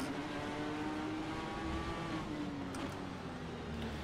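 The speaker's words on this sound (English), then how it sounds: "that downshift buzz really does sound good" Race car engine in a racing video game, a Ford GT GTE, buzzing steadily at close range with engine tones that drop as it downshifts, heard alone throughout.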